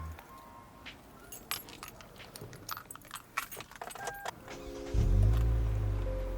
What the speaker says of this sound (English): So now we are gonna start the engine and see how she sounds.